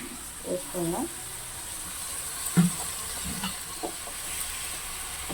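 Freshly washed green leaves fry in oil in a home kitchen pan, giving a faint steady sizzle and hiss with occasional stirring clinks, while a voice speaks softly over it.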